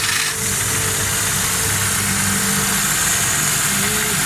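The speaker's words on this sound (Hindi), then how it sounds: "अभी गाड़ी स्टार्ट करते हैं" Steady close idle of a 2006 Daihatsu Cuore engine with a fuel fault and choke engaged, just after starting, a continuous vibrating hum with faint knocking.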